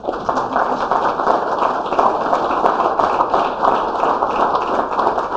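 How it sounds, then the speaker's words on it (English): Audience members applaud teachers at a congressional art competition, a steady, fairly close burst of many hands clapping that holds continuously without speech. "let's have a round of applause for the teachers"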